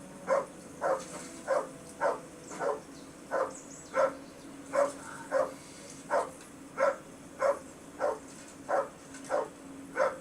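A dog in the video game Kingdom Come: Deliverance barks repeatedly, roughly fifteen single barks at a regular pace of more than one a second, clear over a quiet backdrop.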